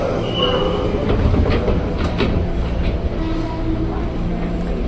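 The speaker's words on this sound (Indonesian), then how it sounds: "baru nyampe KRL-nya, dan jalur 3 langsung diizinkan berangkat" A KRL commuter train pulls into Jatinegara station, a steady loud rumble of wheels and railcars rolling past close by, with faint squeal and clatter throughout and no talking.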